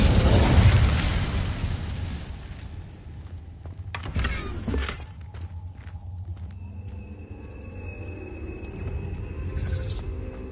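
An Incendio fire spell goes off in a Harry Potter video game, opening with a loud, rumbling whoosh that fades. A second burst follows, then a quieter stretch with a thin sustained tone and a late brief flare.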